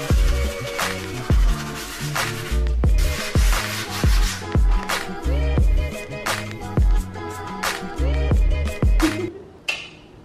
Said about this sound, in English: So I'm just gonna sand them, just like this.